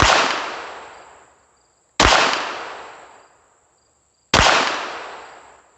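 Three sharp Glock 44 pistol shots fired at a squirrel-sized target, each a loud crack followed by a long decaying ring-out, spaced about two seconds apart with no talking.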